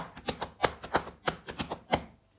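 Sharp percussive drum hits in a repeating three-against-two polyrhythm, two rhythms layered against each other, played close and fairly loud with no voices.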